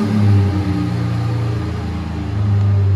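A Chevy Colorado ZR2 pickup's engine turns over by remote start and settles into a steady, loud idle rumble with a low droning hum throughout, no talking.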